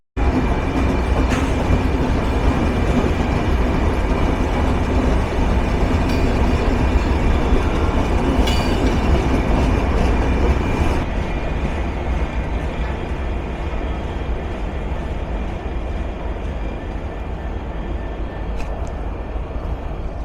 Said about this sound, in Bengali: ননস্টপ বনলতা যে প্রবেশ করতে চলেছে সুবিশাল লম্বা র্যাকের বহর নিয়ে ইব্রাহিমাবাদ রেলওয়ে জাংশনে